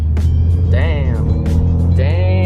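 A Mitsubishi Evo X engine revs up twice over a low steady idle, each rev rising sharply in pitch and falling back, close and loud, with voices talking over it.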